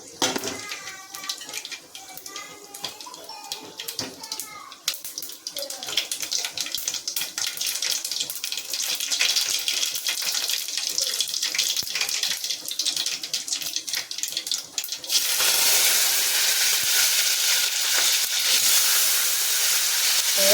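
Mustard seeds sizzling and crackling in hot oil for a home-style chicken curry, a steady dense hiss running throughout and swelling louder near the end, with some talk early on.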